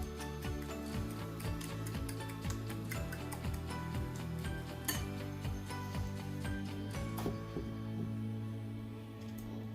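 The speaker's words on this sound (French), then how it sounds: "Et je le mélange avec une fourchette" Four whole eggs are whisked with a fork in a bowl, with a steady run of quick clicking taps against the bowl's side, close and clear, over a faint low hum.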